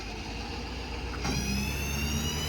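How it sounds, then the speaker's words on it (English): A 2019 Ford F-550 crane truck's engine hums steadily at idle, then is restarted by remote, catching and settling into a slightly louder, smoother idle partway through. "Cut the truck right back on again from the remote."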